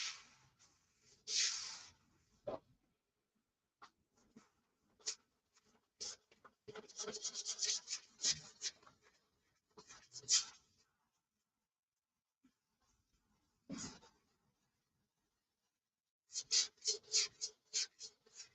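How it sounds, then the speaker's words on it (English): Hand sanding on a Viper 2 in progress: scattered bursts of close, gritty rubbing strokes, some quick and repeated, separated by quiet pauses. "We're not done sanding yet"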